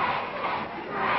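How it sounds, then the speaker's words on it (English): Wrestling crowd at a Kendo Nagasaki versus Mando Guerrero bout, a dense continuous roar of yelling voices, loud and sustained throughout the brief moment. "you can hear the crowd yelling, break it"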